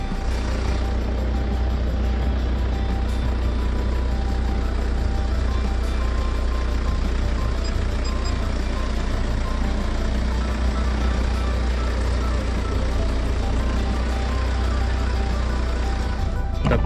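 Tata Safari Storm 4WD crawling off-road in low range, a steady loud low engine drone with continuous rumble throughout, no voices.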